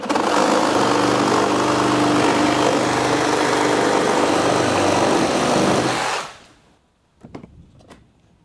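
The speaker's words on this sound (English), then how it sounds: "We've got a FLEX wood blade on here, and we'll put it in oscillating mode." A Flex FX2271 24V brushless reciprocating saw with a wood blade cuts through a pressure-treated 4x4 in oscillating mode, a loud sustained buzzing roar that stops abruptly near the end, followed by a few faint clunks.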